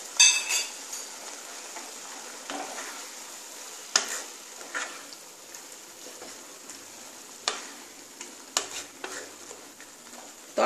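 Tadka masala frying in a pan for dhaba-style egg tadka, with a spatula scraping and knocking at irregular intervals over a soft continuous sizzle, close and fairly quiet, no voices.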